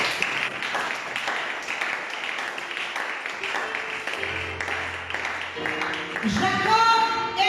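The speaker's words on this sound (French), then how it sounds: "Acclame encore." A church congregation applauds in a steady, sustained wash of clapping that carries through, with musical tones rising near the end and some voices mixed in.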